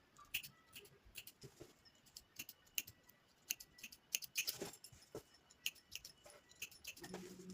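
Scissors make small cuts into the inner seam margin of blouse fabric, giving quiet, close, irregular snips and clicks with no talking.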